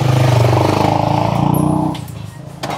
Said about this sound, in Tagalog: May motor eh